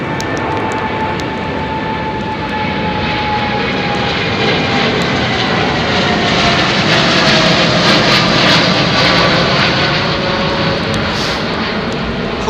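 Big jet aircraft engines at London Heathrow Airport roar continuously under a low cloud base, a loud, steady, rumbling drone with a whining hum that swells slightly and never fades.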